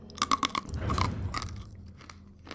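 Chalky candy hearts crunched between the teeth, loud close-up bites and a cluster of crisp cracks, then softer grinding chews that fade out, no talking.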